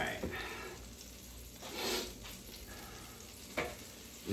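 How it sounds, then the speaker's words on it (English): Butter melting in an electric skillet with leftover bacon grease, giving a steady soft sizzle broken by a few light stirring scrapes, close and fairly quiet. "Now let that butter melt, and it'll mix in with the bacon grease that you have left over from cooking the bacon."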